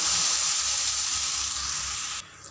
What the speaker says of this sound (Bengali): দিয়ে দেবো সর্ষে ফোড়ন